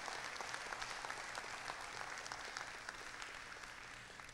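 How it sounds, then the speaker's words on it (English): Applause at a company care team meeting, a sustained wash of clapping from a crowd, fairly faint and even, tapering slightly toward the end. "How about a round of applause for Mr."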